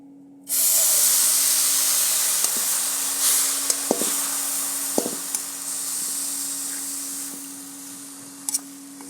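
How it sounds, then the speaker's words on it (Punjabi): Milk poured into a hot pan of ghee and coconut bursts into a loud, steady sizzling hiss that starts abruptly and carries on, with a few small clinks and scrapes over it. "ਹੁਣ ਆਪਾਂ ਦੁੱਧ ਪਾਵਾਂਗੇ ਇਹਨਾਂ ਨਾਰੀ ਵਾਲਾ"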